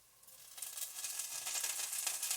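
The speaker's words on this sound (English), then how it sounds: "you can hear that sizzling. That's any little bit of water that's left in the kale." Kale hisses and crackles in a hot frying pan as leftover water cooks off, the sizzle swelling from quiet to a steady, bright spatter close by.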